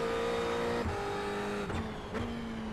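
A Ferrari race car in iRacing at Suzuka drones at close range with a steady engine tone that drops sharply at each of three quick gear shifts, no voices over it.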